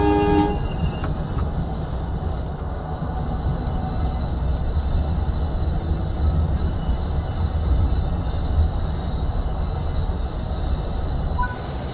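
An electric commuter train coasts on the Morristown Line in Train Sim World 6, with a continuous loud rumble of wheels on rails, steady motor hum and faint squeals throughout.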